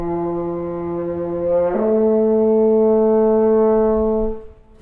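A French horn holds a steady C, then slurs smoothly up to a sustained E without a break, a loud, pure, close brass tone that fades out at the end, played alone.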